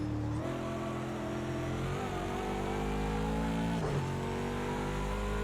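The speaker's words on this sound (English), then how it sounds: "we're going to take our 3 laps in the Bentley Continental against the first place Ghost" A Bentley Continental GT3 races around Bathurst in Project CARS 2, its engine droning loud and continuous with rising and falling pitch through gear changes and corners.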